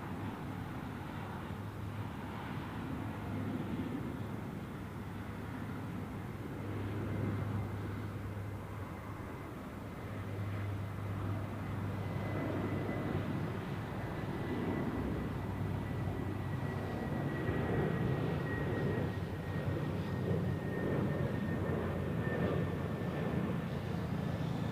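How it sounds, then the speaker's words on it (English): Edelweiss-operated Swiss airliner from Paris at Zurich Airport, a distant, faint jet engine rumble that swells slightly with a thin whine emerging later. "Here we have the Swiss flight operated by Edelweiss from Paris."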